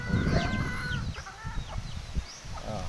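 Backyard hens clucking and calling in steady overlapping bursts, fairly close, with a soft outdoor background and no talking.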